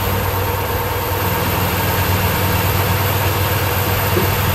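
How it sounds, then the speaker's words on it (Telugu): A bus engine idles steadily in a bus driving simulator, with a continuous low, even rumble throughout and no talk. "ఇంజన్ చూసారా సౌండ్ ఒరిజినల్గా ఎలా వస్తుందా?"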